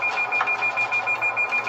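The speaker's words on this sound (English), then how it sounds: "their Lexus starts beeping out of control" Rapid, evenly spaced electronic beeping from a Lexus car's proximity sensors, sounding steadily and insistently at a highway intersection with no pauses, the chirps sitting close and fairly loud over a low cabin hum.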